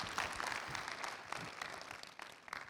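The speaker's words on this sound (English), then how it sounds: "If you liked it, one clap." Audience applause after a talk on the IELTS speaking test, a steady wash of clapping from a room of listeners, moderately loud and continuous for a few seconds with no voices.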